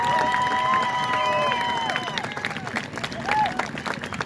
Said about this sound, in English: let's give our senior band and frontline members one last final round of applause